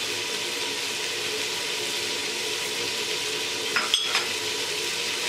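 Spices, salt and garlic paste fry in a pan for chicken vegetable biryani, giving a steady close sizzle broken by a brief stirring scrape near the end.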